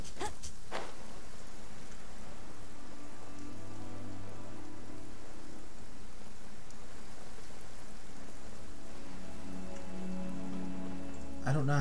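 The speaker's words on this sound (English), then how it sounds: "It's raining." Rain pours steadily in the video game Genshin Impact, a constant hiss of drops on surfaces running the full length alongside faint music and occasional game sounds.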